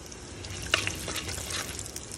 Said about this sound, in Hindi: अब मैं उसमें डालने लगी हूँ 1/4 स्पून हींग की, और इसको भी अच्छी तरह हम पका लेंगे